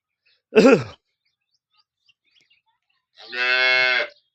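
Cows on a farm in Tharad taluka, Banaskantha, moo twice at close range, a short rising call followed by a longer steady low moo after a pause.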